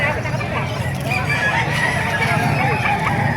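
Many chickens cluck and squawk together in a noisy, busy flock at a poultry market in Calumpit, Bulacan, close by, with a goose-like honk and crowing mixed in.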